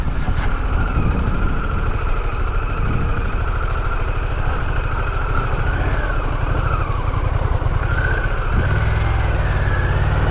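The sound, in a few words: Harley-Davidson Pan America motorcycle riding off-road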